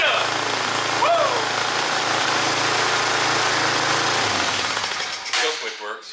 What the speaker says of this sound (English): It's idling a little high, so we're just gonna tune this carburetor up.